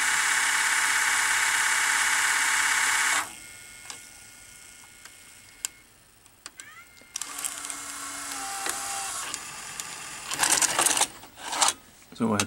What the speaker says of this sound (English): So right now the pinch roller is turning.